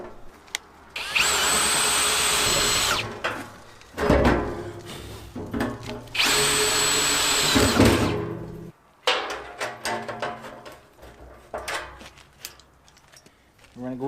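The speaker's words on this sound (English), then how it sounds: "just gonna go through, drill a bunch of holes" Power drill boring holes through a 55 gallon steel drum: two long loud whining bursts of drilling, each a few seconds, separated by clunks and handling noise, then a shorter grinding run.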